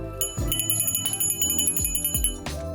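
A small souvenir bell from Tromsø rings repeatedly in quick, bright strikes, metallic overtones shimmering and ringing on between hits, close and fairly loud.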